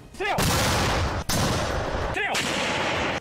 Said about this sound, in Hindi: वहां होने वाले विस्फोटों ने रुकने का नाम ही नहीं लिया।